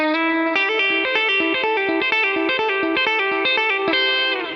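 Electric guitar with chorus and light overdrive plays a fast lick from a rock guitar solo, a rapid continuous run of picked notes, close and clear, with no speech.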